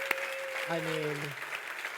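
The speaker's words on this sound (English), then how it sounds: "Let's give them another round of applause, please." A church congregation claps for a group of children, a soft, even wash of applause heard somewhat distantly beneath sustained tones and a brief voice.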